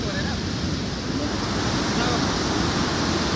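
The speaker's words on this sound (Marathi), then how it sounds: "खालच्या बाजूला प्रचंड खोली आहे मधून पाणी वाहत आहे" Water rushes and roars at Kalu waterfall, a dense, steady broadband wash with wind noise on the microphone, holding loud and unbroken throughout.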